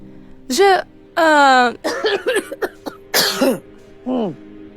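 A person coughs several times in harsh, strained bursts with whimpering, moaning sounds between them, close and loud.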